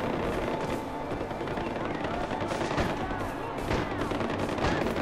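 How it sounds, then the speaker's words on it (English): Gunfire erupts in Far Cry 4 as rebels battle enemies, with dense, overlapping shots and bursts running steadily throughout at a fairly loud, constant level. "Someone's shooting at someone."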